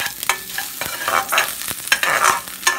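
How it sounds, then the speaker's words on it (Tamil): Ginger and garlic sautéing in hot oil with mustard seeds and urad dal for a potato masala, crackling and sizzling loudly while a spatula scrapes and stirs in quick strokes. "அப்புறம் இஞ்சியும் பூண்டையும் சேர்த்து நல்லா வதக்கி விட்டுக்கோங்க"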